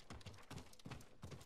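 Horse hooves clip-clop in a steady galloping rhythm while riding in the samurai video game Ghost of Tsushima, four clusters of quick double beats, close and clear, no talking.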